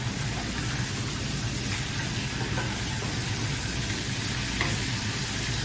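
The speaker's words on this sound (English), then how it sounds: "Are you guys seeing how fast this shrimp is cooking?" Hot oil sizzles and crackles steadily as seasoned shrimp deep-fry, a continuous dense hiss with no voices.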